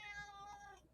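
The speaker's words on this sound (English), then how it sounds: "There's a cat that wants to be on camera." A cat meows once, a short, faint, drawn-out cry in the background of a talk show set, with no talk over it.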